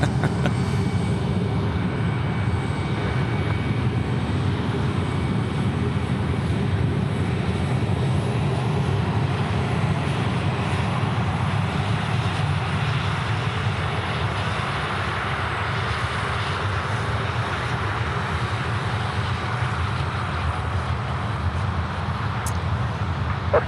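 An airliner takes off at Sydney Airport, its engines making a steady, loud, broad roar that holds for the whole stretch without a break, with no talking over it.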